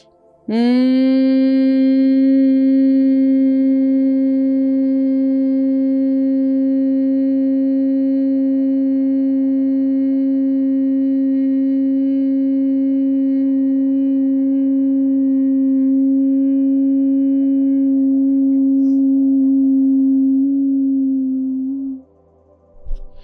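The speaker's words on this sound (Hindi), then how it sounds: "छोड़ते हुए हमिंग साउंड करेंगे ऐसे" Steady voiced humming of bhramari pranayama breathing, one long sustained tone held for about twenty seconds at close range, loud and even, then ending abruptly.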